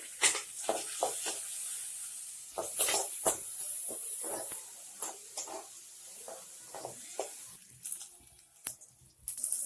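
Onions and green chilies sauté in a pan for a tomato kootu, with soft sizzling under a series of irregular scraping and stirring clicks, fairly quiet and close.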